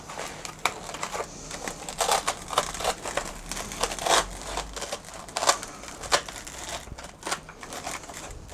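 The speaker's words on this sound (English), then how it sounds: "You've got a pretty good technique going there for peeling out the foam." Foam layers being peeled out of a Milwaukee Packout insert, a close, irregular series of crinkling, tearing and crunching sounds in short bursts with pauses between them.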